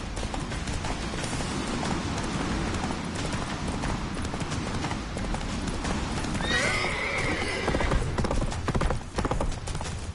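Geralt riding his horse Roach at a gallop in The Witcher 3, drumming hoofbeats in a fast steady rhythm over loud ambient game sound, with a sharp neigh partway through.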